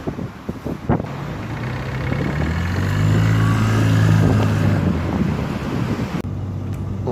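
A Ligier microcar with a Lombardini 492 DCI diesel engine drives along, its low rumbling drone rising steadily as it accelerates, mixed with wind buffeting on the microphone and a few knocks at the start.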